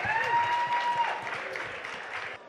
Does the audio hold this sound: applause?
yes